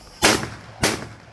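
Two loud, sharp shotgun blasts about half a second apart, each with a short rolling echo, fired at clay targets during a Compak Sporting round at an outdoor shooting range.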